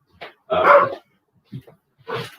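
A dog barks repeatedly somewhere in a home, heard in the background of a casual sports conversation: a short yip, a strong bark, a couple of softer woofs, then another full bark, uneven and moderately close.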